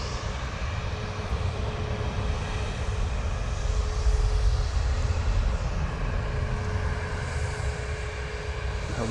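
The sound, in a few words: Ryanair airliner flying past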